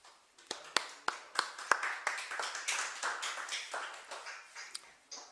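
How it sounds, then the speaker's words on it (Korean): A lecture audience at a Peaceful Unification Advisory Council history talk greets the lecturer with a few sharp, scattered claps that quickly swell into steady, close group applause lasting several seconds. "박수로 맞이해 주세요."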